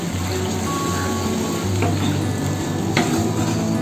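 Water poured onto fried masala in a hot pan for raw banana kofta curry sets off a loud, continuous hiss and bubbling sizzle, with a couple of sharp utensil clinks along the way.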